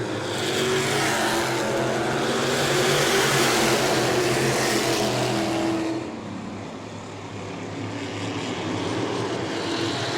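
602 modified race cars roaring around New Smyrna in a 20-lap feature, a loud, dense engine drone that swells as the pack passes close, then drops back around six seconds into a steadier, more distant roar.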